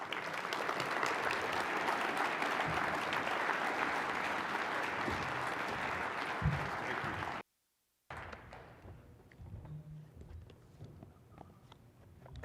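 Sustained audience applause fills a hall, dense and steady for several seconds, then cuts off abruptly before quieter room sounds and faint movement follow.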